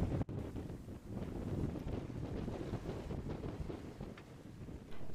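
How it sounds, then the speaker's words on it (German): Sailboat under way among the Cyclades islands of Greece, with steady wind rushing across the microphone and the wash of water along the hull, continuous and fairly loud throughout. "wir segeln weiter nach Iraklia"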